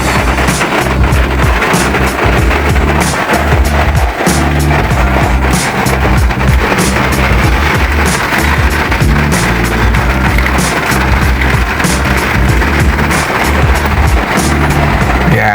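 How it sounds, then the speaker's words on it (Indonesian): Rain drums on the roof of a Karimun Wagon R as heard from inside the cabin, a loud, dense, continuous patter with a low rumbling hum underneath. "kira-kira seperti ini suara kalau hujan di dalam kabin"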